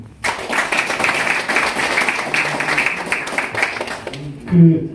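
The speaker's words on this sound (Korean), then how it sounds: "큰 박수 부탁드립니다" Audience applause fills a party conference room at a campaign committee's closing ceremony, a dense burst of clapping that runs about four seconds before fading as a voice begins over a microphone.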